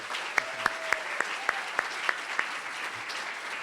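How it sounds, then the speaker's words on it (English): Sparse, evenly spaced claps, about eight distinct hits, from a small audience at a governor's bill-signing event. A faint steady tone hums underneath and the room stays otherwise quiet. "please join me in a big round of applause for Melanie and all of her hard work on the"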